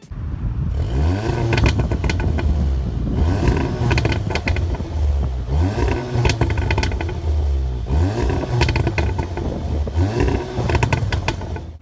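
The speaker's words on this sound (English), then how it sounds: "The exhaust sound on the Audi S3" Exhaust note of a 2017 facelift Audi S3 8V, loud and close, with repeated surges of revving and accelerating that rise and fall in waves, with mechanical clatter between them.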